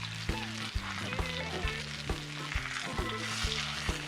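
Ribeye steaks frying in a 10-inch pan give a steady close sizzle, crackling continuously with irregular small pops throughout and no talking.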